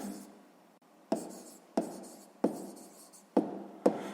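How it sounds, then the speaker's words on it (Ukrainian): A pen writes an answer by hand for a sixth-grade maths exercise, giving a series of close, distinct strokes, each a sharp tap followed by a short scratch, about six in a row with no talk. "Ну що ж, записуємо тоді відповідь."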